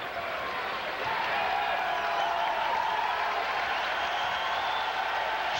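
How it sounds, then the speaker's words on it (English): A basketball arena crowd at a Missouri vs Colorado college game cheers and applauds in a steady, loud wash of clapping and shouting that swells after the first second, with faint commentary underneath. "And the crowd now, everybody standing and cheering"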